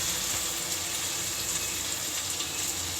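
Water is poured into a pan of potato and eggplant curry with tomato, a steady, even gushing splash that stays constant and fairly loud throughout, with no voices.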